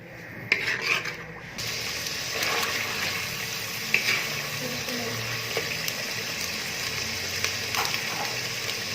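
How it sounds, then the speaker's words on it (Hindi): Ginger garlic paste frying in half a cup of ghee in a pan for mutton karahi, a steady close sizzle with scraping and stirring over it and a few clinks near the start. "इसमें अदरक लहसुन का पेस्ट डालकर हल्का ब्राउन होने तक भूनें।"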